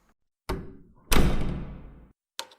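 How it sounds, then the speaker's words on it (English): A door being locked with a quick knock-like thud, a heavy slam and rattle that decays over about a second, then a final short clack, all close and loud with no talking. "You have to wait till you finish locking the door, John."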